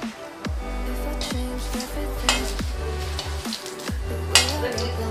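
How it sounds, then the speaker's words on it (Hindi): Pani puri frying in hot oil, a close continuous sizzle broken by repeated sharp knocks and scrapes of a utensil pressing them down in the pan. "अब उसको गर्म तेल में हम डालेंगे, अब डाल के इसको हल्का दबाएंगे"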